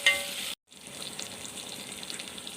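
Onion with fresh coriander and mint sautés for ghee rice, making a quiet, steady frying hiss interrupted by a brief total dropout before the sizzle resumes, softer and fainter.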